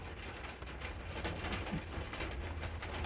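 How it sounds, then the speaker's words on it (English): Steady rain patters outside a parked camper van, a soft continuous hiss of drops on the roof and surroundings, faint and even, with no voices. "It's still raining."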